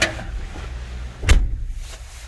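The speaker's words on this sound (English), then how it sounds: "It's just a really nice closing door." Driver's door of a 1969 Jeep Gladiator J3000 pickup swinging shut, a single solid thump midway through, nearby, over a steady low background rumble.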